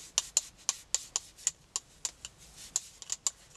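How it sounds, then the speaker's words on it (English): Red ink is rubbed off a brayered card background, heard as quick, irregular scratchy rubbing strokes close to the microphone with no talking. "Let's see if I can rub this off."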